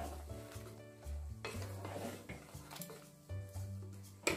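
Sour curd stirred into a dish: soft, close spoon-against-pan scraping and clinking in a quick irregular rhythm, faint overall with a light sizzle underneath.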